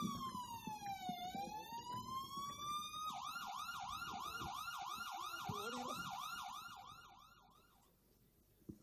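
An ambulance siren sounds loud and close, beginning with a slow rising and falling wail and then switching to a rapid, repeating yelp. It fades toward the end over a background of rumbling road noise.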